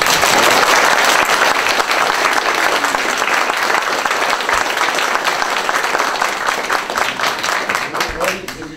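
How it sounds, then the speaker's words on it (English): A crowd at an evening candidate forum for a county tax commissioner and sheriff run-off gives a loud, sustained round of applause, dense clapping that holds steady and fades slightly toward the end. "A round of applause."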